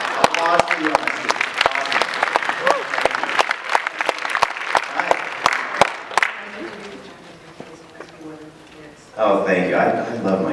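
Audience applause at an anime convention voice actor panel, with sharp claps and cheering from a crowd filling the first six seconds before fading, then a voice speaking near the end.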